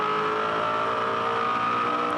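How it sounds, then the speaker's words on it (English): A loud, high-pitched 2003 Supercars race car engine revving hard through second, third and fourth gears at Adelaide, climbing in pitch, a steady close roar with no talking. "Listening to Russell Ingall's car, 2nd, 3rd, 4th"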